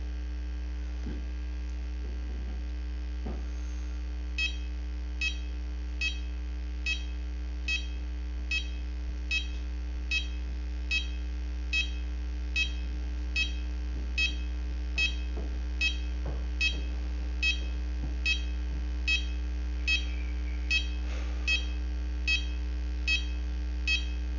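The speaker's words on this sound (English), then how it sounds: "It'll beep. It'll just keep beeping like that and tell me, okay, I got to reset my sensor." A pulse oximeter alarm beeps steadily at an even pace, signalling a sensor needing reset, soft and repetitive, over a constant low electrical hum.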